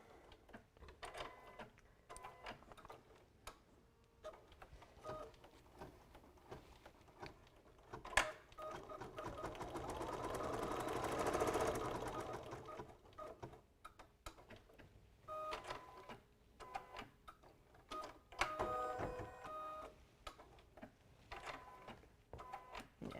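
An embroidery machine stitching a small decorative stitch gives a quiet, rapid mechanical ticking and whirring that swells for a few seconds in the middle, broken by brief clicks and pauses.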